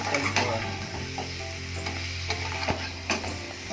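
Masala egg fry being stirred gently in a pan, with a spatula scraping and turning the eggs over a steady sizzle of frying oil, close and continuous with a few light metallic clicks.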